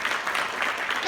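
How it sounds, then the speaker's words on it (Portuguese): Brief audience applause at a network marketing talk, a short burst of dense clapping lasting about a second, with speech running over it. "Só uma salva de palmas para o Flavião, meu direto, meu vizinho."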